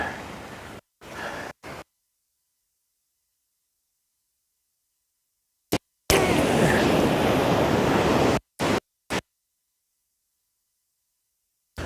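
Ocean surf breaks on a beach in loud, rushing bursts with wind noise, cut into short segments with silent gaps between them.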